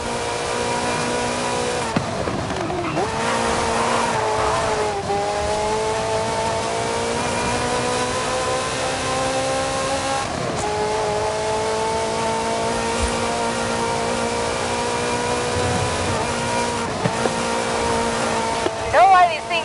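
Ferrari F40 engine in Forza Horizon 5, a loud, sustained drone that rises as the car climbs through the gears, with brief dips at each shift and a voice talking over it.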